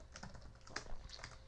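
Fast, light typing on a computer keyboard, a quick run of soft close clicks with no voices.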